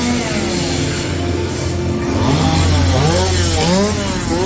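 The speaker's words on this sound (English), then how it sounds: "Oh, the chainsaws." Chainsaws revving at a Halloween Horror Nights scare zone, rising and falling engine whines in close, loud bursts over a noisy crowd.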